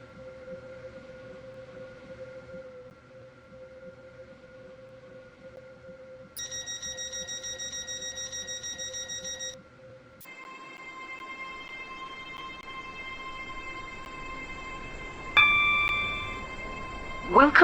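A train runs in the railway game Stepford County Railway: a steady electric hum with tonal whines that shift and rise in pitch partway through, growing louder toward the end.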